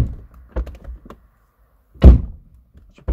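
A Renault Megane car door shuts with a solid, muffled thunk, heard near and loud, followed by a few lighter taps and knocks before and after.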